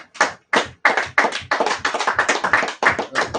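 A congregation claps hands together at a Sabbath service in Indianapolis, a steady run of sharp, close, overlapping claps with short gaps and no voices.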